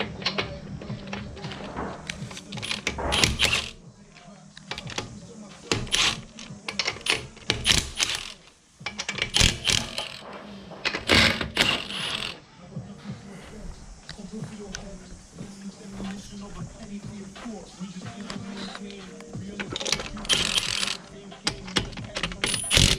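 Front wheels coming off a Nissan S15 during an ABS delete: repeated metallic clicks, ratcheting and clanking of lug nuts and tools in bursts, fairly close, with some mechanical rattles between.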